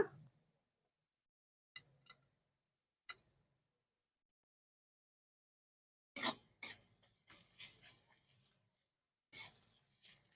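Crushed garlic and ginger are stirred in a cooking pan for chicken gravy, with sparse metallic ticks and clinks at first, then a denser run of utensil scrapes and taps against the pan. No voices are heard.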